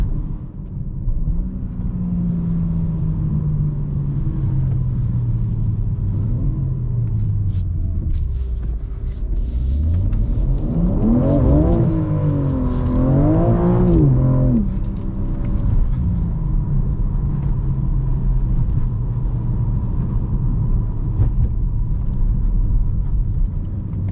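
A 2022 BMW M4 Competition G82 engine drifting, a loud continuous exhaust drone rising and falling with throttle, swelling into wavering revs in the middle as the car slides, heard from inside the car.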